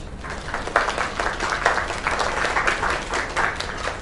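Applause from a crowd of virtual spectators in a PS4 video game, steady clapping that swells and rolls on for several seconds at moderate volume.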